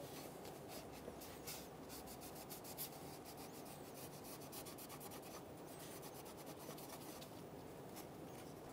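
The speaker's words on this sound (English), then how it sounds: "We're going to wipe off the area." Steady rubbing and wiping with a rag across an engine area of a 2003-2007 Honda Accord, a continuous scratchy friction sound with no talking.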